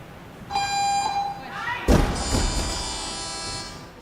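A loud electronic buzzer tone at a weightlifting meet sounds for about a second as a 30-second warning, followed by a heavy thud and a sustained harsh buzz, with a noisy crowd-like background.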